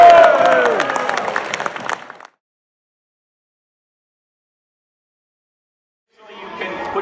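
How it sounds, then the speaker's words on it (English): Audience applause at a Christmas event in St. Anne's Basilica, Detroit, mixed with voices for about two seconds, then dead silence, then the clapping returns faintly at the end. "Round of applause."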